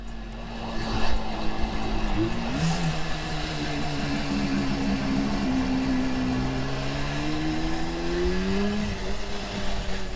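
A restored 1977 Suzuki GT250 two-stroke motorcycle with Micron exhausts hums steadily while being ridden, its engine note rising and falling as it accelerates, heard alongside wind and road noise.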